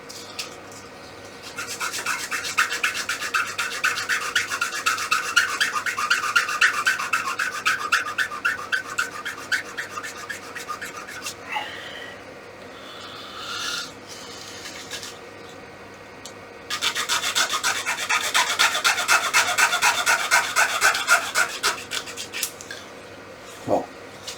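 A turned wooden whistle being rubbed down, giving long stretches of steady rasping, scratchy friction in two main bursts separated by a short pause with a few light knocks.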